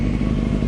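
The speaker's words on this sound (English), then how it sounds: "Just right off the bat, it's just so much louder. Just idle is so loud." A Honda CBR 600 F3 with a Yoshimura shorty exhaust idles loudly nearby, a steady deep burbling rumble with no talk over it.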